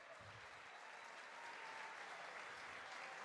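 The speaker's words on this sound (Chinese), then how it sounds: "这是来自联盟党大会直接献给您的掌声" A large crowd applauds steadily, a dense, continuous wash of clapping that holds at an even level throughout, with no voices over it.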